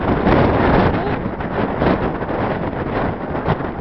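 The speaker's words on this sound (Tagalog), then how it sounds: "Lakas ang hangin." Strong wind buffets the microphone in a constant loud roar, with gusts rising and falling throughout.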